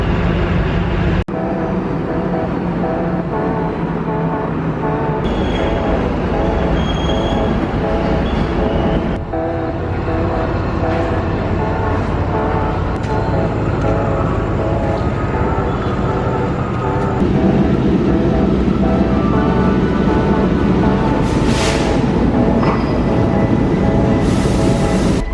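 A train at Fort Station in Colombo, Sri Lanka, gives a steady, loud rumble of rolling carriages and machinery. The rumble runs without a break and swells somewhat louder toward the end.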